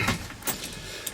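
A bunch of car keys jangles in a few quick metallic bursts, fairly close and moderately loud, with a faint low rumble beneath and no talking.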